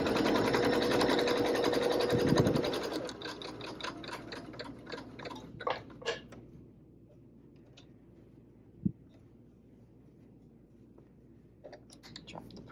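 A sewing machine stitches fabric near a dart, running loud and steady for about three seconds before stopping, followed by faint clicks and small handling taps in a quiet room.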